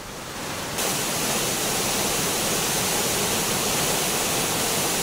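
Water roars down the Kavi waterfall after heavy rain, a loud, steady, broadband rush that continues unbroken throughout with no voices.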